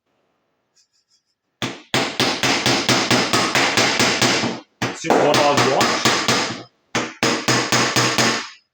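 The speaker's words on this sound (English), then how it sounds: "I just know if I've got the dolly right behind it, makes that cool noise." A hammer rings sharply on a BMW E30 steel door panel backed by a dolly, in rapid, evenly spaced strikes, in three bursts separated by short pauses, close and loud, with a brief spoken phrase.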